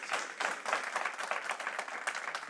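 An audience at a school board of education meeting claps in steady, dense applause that sounds moderately distant and fills the room without a break.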